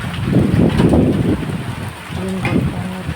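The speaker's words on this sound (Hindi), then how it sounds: "बारिश इस तरह से हो जाती है, ये देखो" Rain falling in the Himachal mountains, a dense steady hiss of drops with wind, loud and close, with faint tonal sounds late in the clip and no clear talk.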